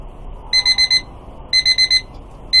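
An Uigos kitchen timer alarm rings loudly and close in sharp bursts of four quick, high beeps, repeating about once a second.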